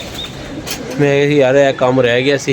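Pigeons coo and murmur from a loft of roughly fifty to sixty birds, soft calls in the background while someone talks loudly close by over them.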